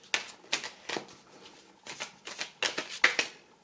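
Tarot cards being shuffled by hand, a close run of crisp riffling bursts in an uneven rhythm, about a dozen quick flutters with short pauses between them, without speech.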